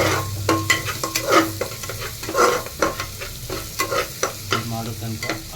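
Garlic and ginger fry in a pan, giving a steady close sizzle broken by repeated scraping stirs of a spoon against the pan; no voices are heard.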